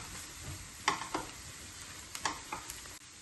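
Ginger garlic paste stirred in a hot pan: a few sharp scrapes and clicks of a spoon against the metal over a faint, low sizzle, quiet and close.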